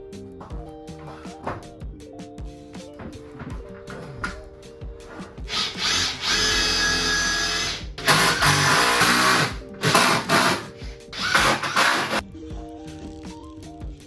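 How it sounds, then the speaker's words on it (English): A power drill drives screws into the wooden floor of a bus being converted into a house, with whirring bursts and grinding bites into the wood over several seconds, after quieter clatter and handling noises. "Start screwing."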